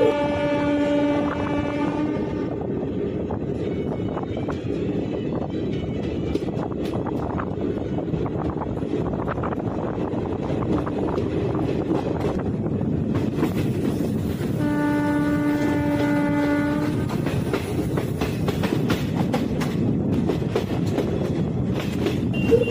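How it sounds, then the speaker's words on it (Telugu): A passenger train runs from Kothavalasa towards Puri near Vizianagaram junction, with steady loud rolling rumble and wheel clatter throughout and two long horn blasts, one at the start and another about two-thirds through. "విజయ స్టేషన్లకు వెళ్తున్నదండి బండి."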